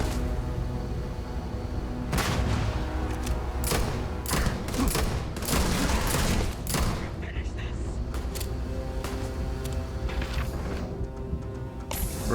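Starfield enemy gunfire lands as scattered bursts of shots and heavy thuds, clustered in the middle and tapering off, with a voice speaking intermittently over the combat.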